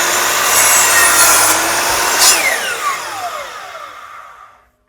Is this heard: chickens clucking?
no